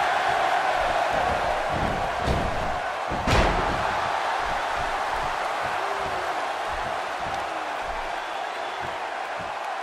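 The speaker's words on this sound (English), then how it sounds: "The crowd here in Austin, Texas, really into this one" A wrestling crowd in Austin, Texas roars steadily throughout, a dense continuous cheer with a sharp slam-like thud in the middle and a few louder surges.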